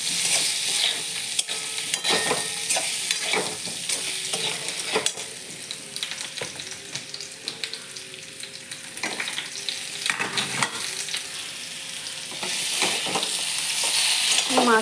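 Potato and pointed gourd being sautéed in a pan, with continuous sizzling and frying hiss and repeated scraping stirs of a spatula, steady and close with no talk.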